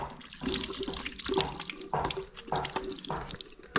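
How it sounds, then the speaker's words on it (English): Hands are washed under a running tap with detergent, giving steady close splashing water that is interrupted by rubbing and swishing as the hands move in and out of the stream. "I need to wash my hand here"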